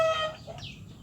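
A chicken that has recovered from a snoring respiratory illness gives a short, close cluck with a rising tonal note, followed by a brief quieter call.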